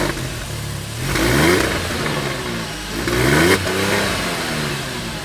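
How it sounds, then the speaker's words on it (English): A Porsche 911 engine revs twice, each rise a rising, throaty mechanical wail that climbs in pitch and then settles back to a steady drone, loud and close with no talk. "soulful engine note."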